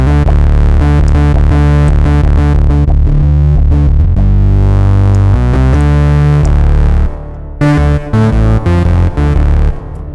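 Heavily distorted synthesizer chords and notes from a software synth's distortion effect play loudly, gritty and buzzing, changing pitch in bursts with brief gaps near the end.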